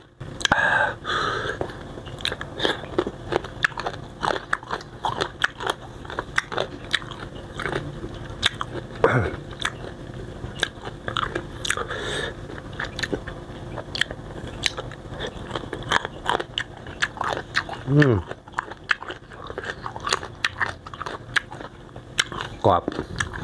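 Crunchy young mango, eaten with sweet fermented fish sauce, bitten and chewed close to the mic in steady crisp crunches and wet chewing that run throughout, with quiet mouth noises between bites.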